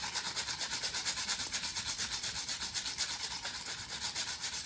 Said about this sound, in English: I'm sanding some imperfections on a decal.